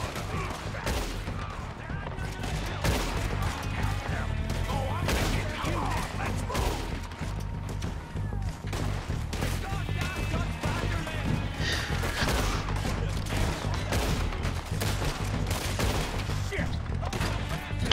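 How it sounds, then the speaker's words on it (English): Steady gunfire from a Red Dead Redemption 2 shootout, with dense overlapping shots and crashes running continuously under in-game music and effects, loud and sustained throughout. "Nice proper shooting going off now."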